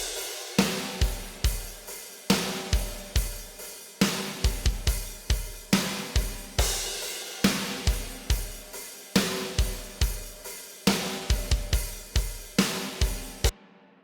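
Soloed drums from an epic hybrid trailer track mix: heavy booming kicks and reverb-drenched snare hits in a steady, punchy pattern, loud and alone with no other instruments.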